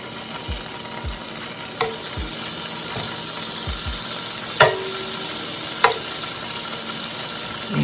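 Small bite-sized fish pieces for tacos sizzle in a hot pan with a steady frying hiss, broken by a few low thuds and sharp clinks of a utensil moving them around.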